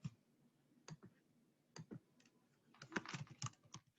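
Quiet, close computer keyboard typing, a few isolated key clicks followed by a denser burst of rapid keystrokes, no voices over it.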